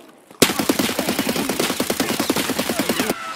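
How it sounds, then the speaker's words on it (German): Gunfire in Escape From Tarkov: sustained automatic bursts in rapid, evenly spaced rounds, close and loud, running for about three seconds with no talking. "kannst aufhören zu schießen"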